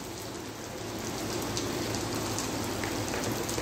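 Heavy rain falling steadily at the Masjidil Haram, a dense continuous hiss of drops on surfaces that swells slightly louder after the first second and carries on without voices.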